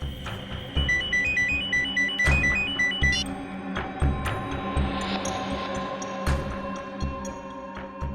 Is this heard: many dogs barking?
no